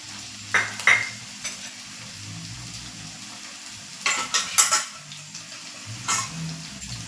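Capsicum, chopped tomato and onion cook in a pan for pasta under a low sizzle, broken by a few clusters of spoon scrapes and clinks against the pan.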